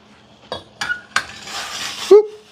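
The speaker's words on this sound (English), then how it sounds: "I'm taking my potatoes right here and I'm putting them in the boiling water" Potatoes for mashed potatoes go into a pot of boiling water: a few sharp kitchen clinks and knocks, then a burst of splashing, hissing water, and a short vocal sound at the end.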